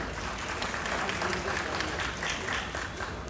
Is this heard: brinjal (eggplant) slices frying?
no